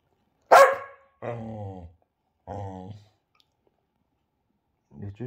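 A blue Staffordshire bull terrier gives four loud, close barks: one sharp bark, then two longer yowling barks, a pause, and a final short bark, with no talking between them.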